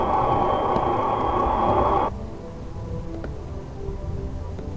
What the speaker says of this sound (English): They hear a bell on the audio, which makes them think L train.